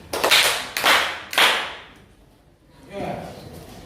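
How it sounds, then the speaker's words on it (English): Classroom of students applauding a classmate in a science lesson, three short bursts of clapping, close and fairly loud, then a softer fourth burst after a quiet pause. "clap for him"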